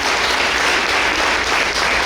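A breakfast crowd gives a round of applause for a board vice chair, a loud, dense, continuous clapping from many hands that fills the room with no talk over it.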